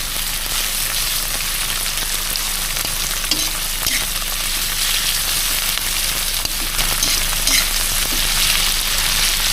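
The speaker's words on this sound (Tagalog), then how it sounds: "Lutuin lang natin ang sibuyas" Onions frying in a pan with a steady, loud sizzle throughout, punctuated by occasional stirring scrapes, no voices.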